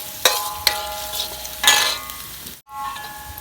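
Garlic sizzles in a stir fry with a steady hiss, broken by a few sharp clinks and scrapes of a utensil against the pan and a brief silent gap near the end.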